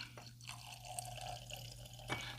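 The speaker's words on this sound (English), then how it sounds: "Let's get it on a pour, shall we?" Bulleit Frontier Rye whiskey runs from its plastic-capped bottle into a glass in a short, faint trickle, with a couple of small drips and a clink near the end in a quiet room.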